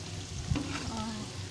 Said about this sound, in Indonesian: Ini kita goreng sampai agak garing ya.